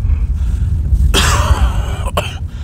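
A single sharp cough bursts out close by, followed by a quick second catch, over a low rumble of strong wind while ice fishing for pike in December.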